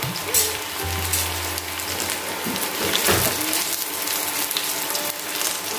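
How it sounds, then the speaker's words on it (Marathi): Potatoes shallow-frying in oil in a pan over a high flame, a loud continuous crackling sizzle close by, with a brief low hum near the start and a few knocks. "हे जे बटाटे आहेत ना, ते आपल्याला शालो फ्राय करून घ्यायचे"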